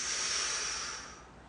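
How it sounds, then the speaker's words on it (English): A slow breath drawn in through the nose during a relaxed stretching session, a soft airy hiss that holds steady and then fades away. "Breathe in the nose."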